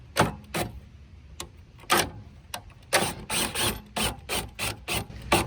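A travel trailer's stabilizing jack is cranked down at a campground, making a close run of rhythmic ratcheting, grinding mechanical bursts, first sparse and then in quick regular succession.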